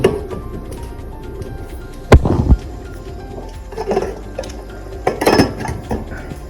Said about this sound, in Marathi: आता याला आपण झाकण लावणार आहे हे आपल्या इकडे झाकण